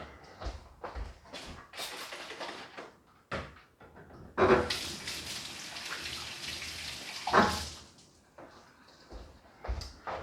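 Water runs from a tap with splashing and rinsing, interrupted by a few knocks and clatters from handling things nearby.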